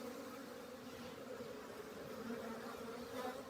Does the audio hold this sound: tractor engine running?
no